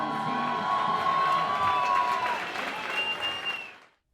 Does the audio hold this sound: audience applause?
yes